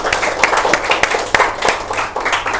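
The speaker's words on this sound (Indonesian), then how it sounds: "Kita kasih aplaus dulu untuk Michael." A classroom audience claps for a student, a steady close burst of hand-clapping lasting a couple of seconds with no talk over it.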